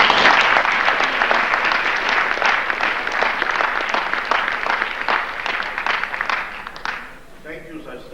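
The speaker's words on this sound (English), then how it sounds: "they deserve a nice round of applause" An audience at a school winter sports awards night applauds the athletes, loud sustained clapping that fills the room for about seven seconds before tapering off, with some voices beneath.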